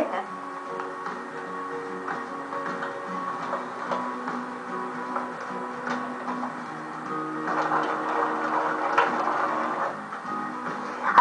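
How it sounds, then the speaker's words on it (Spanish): A sewing machine stitches cotton fabric onto plastic oilcloth, its steady mechanical ticking and whirring running continuously and growing slightly louder toward the end, with speech over it at times. "Voy a empezar a coser y voy a dejar estos extremos aquí."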